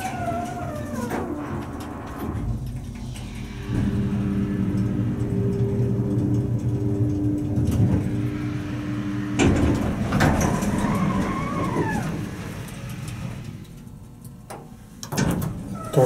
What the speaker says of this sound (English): This thing has an epic motor.